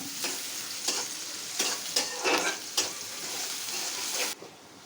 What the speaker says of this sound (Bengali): পেঁয়াজ মরিচ সব দিয়ে দেওয়া হয়েছে হ্যাঁ ভালো করে নাড়াচাড়া নাড়তে হবে